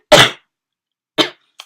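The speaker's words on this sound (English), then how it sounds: "Excuse my coughing." Three coughs from a sick person: one strong cough, a pause of about a second, then a second cough and a brief weaker one, close to the microphone.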